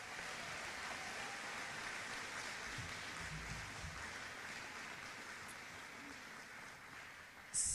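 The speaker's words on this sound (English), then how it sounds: "So let's give this group one another big round of applause." Dense, steady applause fills a school gym at the 2021 Jackson City School graduation. The clapping sounds distant and crowd-wide, like rain, and holds evenly throughout before a brief louder burst at the very end.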